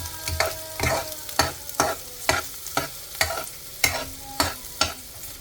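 Onion frying in a pan before pork is added, heard as a close sizzle broken by a regular series of about a dozen stirring scrapes and spatula strokes, each roughly half a second apart, with no talking.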